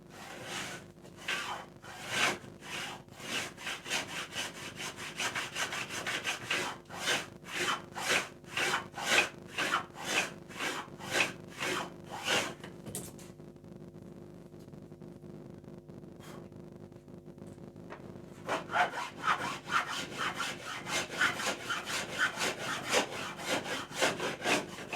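A blade is sharpened to a new, steeper bevel in a luthier's workshop, a fast, steady back-and-forth rasping of metal on stone in close, even strokes, broken by a brief pause before the strokes resume.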